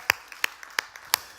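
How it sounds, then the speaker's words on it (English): A few scattered, sparse claps from a small youth group, four sharp distinct hand claps spread over about a second and a half, fairly faint, with no one talking. "Why don't we give them a round of applause?"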